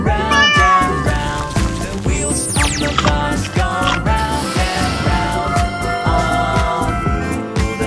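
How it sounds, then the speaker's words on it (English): A cat meows amid a busy children's song, the cries rising and falling over a steady, loud musical backing with no talking. "Cat."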